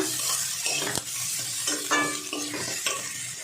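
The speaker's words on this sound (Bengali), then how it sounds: "এবার আমি পেঁয়াজ কুচিটা দিয়ে দেবো। পেঁয়াজ কুচিটা 2 মিনিট ভেজে নেব।" Chopped onion frying in a pan while a spoon stirs it, with a steady close sizzle broken by a few scraping strokes against the pan.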